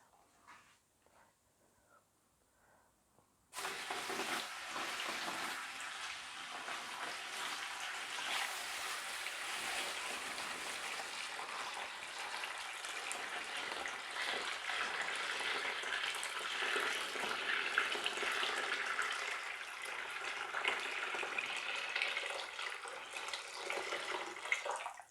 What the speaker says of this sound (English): The next thing you need to do is fill the bath with water.